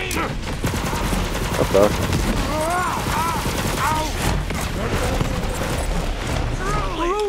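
Rapid bursts of automatic gunfire from the Borderlands 3 video game, loud and nearly continuous, with metallic zings and impacts layered in and someone talking briefly over the shooting.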